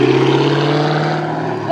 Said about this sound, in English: Who is that revving?